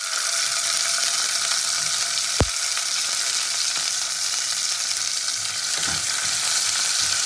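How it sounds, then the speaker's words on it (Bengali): Chopped tomatoes sizzle and fry in hot oil with black cumin seeds, a loud steady hiss running throughout with a brief stirring clatter partway. "কালো জিরেটা ভাজা হতে আমি টমেটো কুচিটাও দিয়ে দেবো।"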